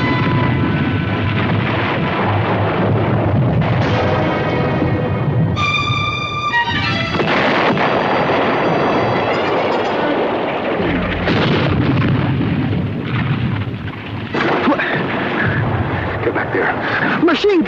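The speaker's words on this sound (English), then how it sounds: "Machine gun! Get back." Gunfire and explosions fill a 1963 World War II television episode, with a loud, continuous battle din of bursts and blasts throughout. Shouting voices are heard over the fighting.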